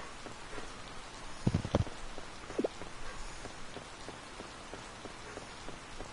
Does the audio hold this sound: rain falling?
yes